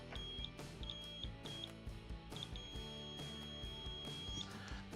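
A multimeter beeps in short and long steady tones during a continuity test on a Samsung stove's terminal block, the beeps clear over a busy background of handling noise.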